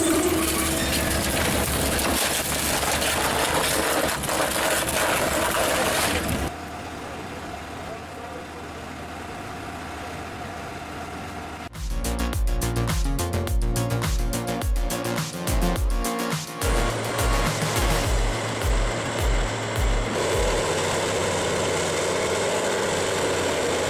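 Perkins diesel engine powering a car baler crusher, a droning engine with shifting pitch and loudness across several sections, including a stretch of pulsing, harmonic-rich rumble, with a voice talking over it.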